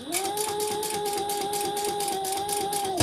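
Sewing machine stitching slippery vinyl for a handbag, a steady close mechanical whir with a rapid even needle rhythm running alone throughout.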